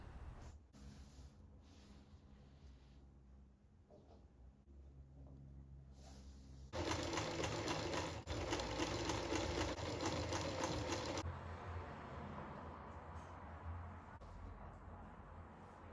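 A sewing machine stitching pinned pieces of a hand-made British Union Flag runs in one steady, close, rapid whir for several seconds, after quieter handling noises, then drops back to a low background hum.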